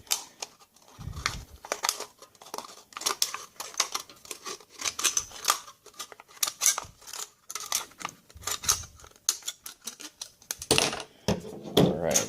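Scissors snip repeatedly through heat shield material for a DIY AK build, crisp irregular cuts up close with short pauses between them and no talking.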